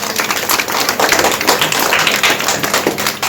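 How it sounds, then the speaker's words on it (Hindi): A crowd at a Hindu devotional gathering for the arrival of the nine goddesses in Chauri Chaura claps together, a loud, dense patter of hands held steady for a few seconds. "मारे की सभी ताली बजाइए।"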